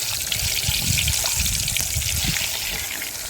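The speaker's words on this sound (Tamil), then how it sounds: "மீன் வறுக்கிறதுக்கு நம்ம எண்ணெய் ஊற்றிக்கலாம்." Cooking oil is poured into a pan in a village kitchen for frying fish, making a continuous close trickling, sizzling stream with small crackles throughout.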